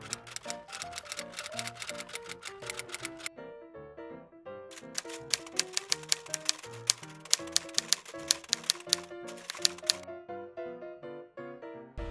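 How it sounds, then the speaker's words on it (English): A typewriter sound effect for on-screen text gives rapid clattering key strikes in two long runs split by a brief pause, set over background music with no speech. "so I'm using the second typewriter's sound effect on this"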